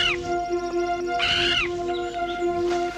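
A crow perched in a tree caws several times across a few seconds, harsh calls rising over a steady tonal background hum in a quiet outdoor scene.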